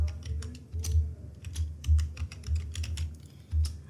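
Keys clatter steadily on a computer keyboard while text is entered into an Excel spreadsheet, a close run of quick irregular taps and key presses with no talking.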